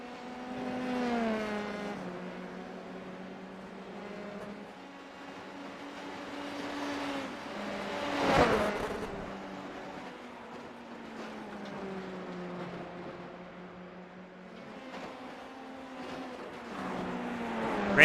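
F3 race car engines in an iRacing video game race whine at high revs, rising and falling through gear changes with a brief louder burst midway, steady and without voices.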